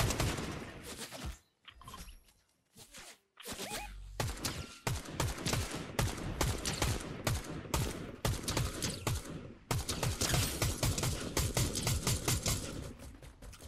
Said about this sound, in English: I did fire some rounds at them